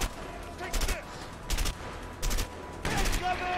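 Enemy gunfire in the video game A Way Out: four loud bursts of shots at roughly regular intervals, each cracking sharply over a low background rumble.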